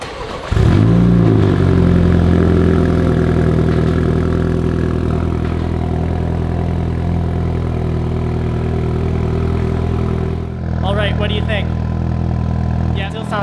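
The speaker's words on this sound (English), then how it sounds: "let's start this thing up and see what it sounds like" A 2022 MINI Cooper JCW starts up with a quick crank and a short rev, then settles into a steady, loud idle close by; a voice speaks briefly near the end over the running engine.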